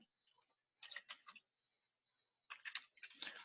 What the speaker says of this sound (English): You see, I'm not typing very well today.